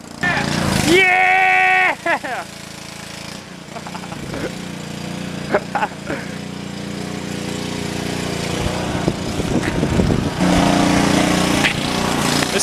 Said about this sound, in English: We're trying to figure out how to use this power washer so we can wash the wheels